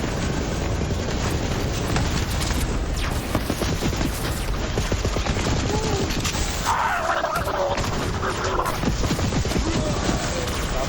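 Video game gunfire in a chaotic firefight, dense continuous shooting and bursts packed together at a loud, unbroken level with other game noise mixed in.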